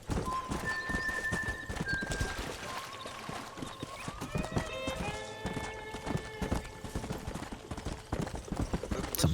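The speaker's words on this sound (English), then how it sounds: "Some painted horses here." Painted horses in the Red Dead Redemption western game, with a quick rhythmic clip-clop of hooves trotting close by and a loud whinny partway through, over a soft outdoor background.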